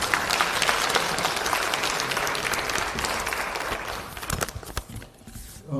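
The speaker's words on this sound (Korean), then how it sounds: "박수 한번 치시죠." A crowd at a party's general meeting claps in dense, sustained applause that thins into scattered claps and fades near the end, fairly close and without speech.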